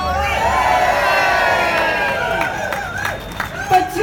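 A political rally crowd at Newcastle's Monument cheering and whooping, a sustained roar of voices with rising shouts and some clapping toward the end.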